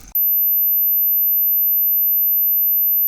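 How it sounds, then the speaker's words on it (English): A steady, very high-pitched pure sine tone simulating tinnitus rings alone at constant loudness for about three seconds after a brief moment of faint room noise. "I hear just like a high-pitched tone"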